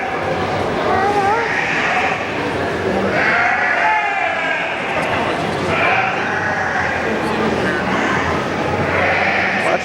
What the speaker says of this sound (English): What's the goat say?